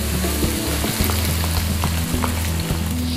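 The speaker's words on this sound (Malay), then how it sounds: "Okay, kita goreng sehingga layu." Onions fry in hot oil in a pan alongside garlic, giving a constant close sizzle and crackle with occasional stirring clicks, no talking.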